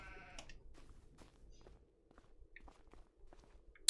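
Sheep bleating in the farming video game Farming Simulator, a few short bleats at moderate distance with soft footsteps and chewing-like rustles on a sheep pasture, no talk.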